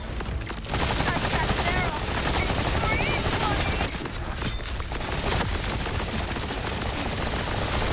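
Rapid, dense gunfire in the video game Borderlands 4, a continuous loud stream of shots running nearly the whole time with a short break early on, and a voice faintly under it.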